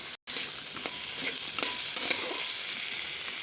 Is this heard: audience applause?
no